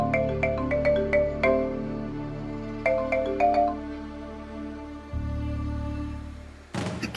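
A phone rings while a call goes through, its tune repeating in bright melodic bursts with short gaps, heard close and clear over a steady low hum.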